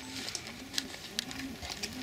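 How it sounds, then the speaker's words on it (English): Soft pigeon cooing repeats in short, regular phrases inside an old hospital building, fairly close and alone over a faint steady hiss. "Is that a pigeon? That's a pigeon"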